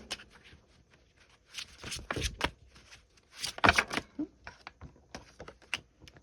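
A heavy tarot deck being shuffled by hand, with bursts of papery riffling and sharp card slaps in an irregular rhythm, close and fairly loud between short pauses.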